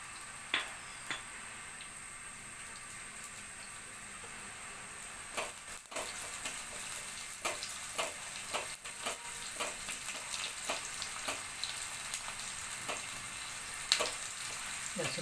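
Garlic and red chillies crackle and sizzle softly in hot oil for a tadka, faint popping over a steady low hiss with occasional sharper spits.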